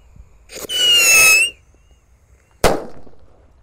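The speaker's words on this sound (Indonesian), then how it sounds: "Lanjut kalau ini mercon rocket piro guys." A rocket firecracker whistles as it launches, followed about a second later by a single sharp bang; no voices.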